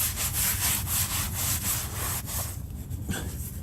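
Towel rubbing oil off a cement floor, a brisk, rhythmic scrubbing swish repeating several times per second, close and fairly loud, easing slightly toward the end.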